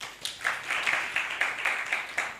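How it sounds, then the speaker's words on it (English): A university moot court audience gives a round of applause, a moderate, rhythmic clapping that rises and falls in quiet bursts at a distance. "Let's give them a round of applause."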